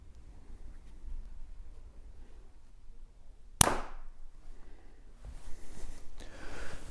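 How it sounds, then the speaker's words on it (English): A Hoyt Ventum 30 compound bow is shot once outdoors, giving a single sharp, loud snap of the string release that decays quickly, with faint rustling and ambient noise before and after. "and we'll shoot the Hoyt again"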